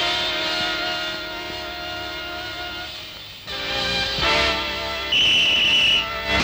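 A referee's sharp, steady high-pitched whistle blast near the end of a street football game, following a busy stretch of broad engine-like noise and clatter.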